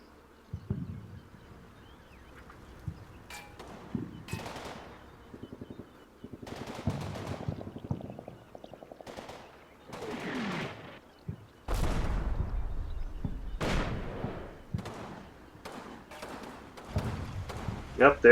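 Mountain gun and other weapons firing in a war video game set around Fortress Grosshau, with repeated sharp bursts and booms at varying distances and someone talking over the gunfire.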